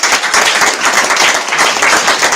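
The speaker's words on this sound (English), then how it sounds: "Please wrap this with the clap for yourself" A crowd of attendees at the close of a fifth-anniversary conference gathering claps together, a dense, steady wash of applause lasting a couple of seconds with no voices over it.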